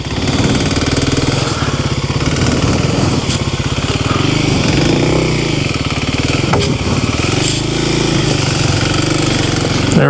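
A 2026 Kawasaki KLX300 dirt bike with a Race Tech spring ridden off-road through woods, its single-cylinder engine loud and close with a rapid pulsing beat, revving up and down continuously.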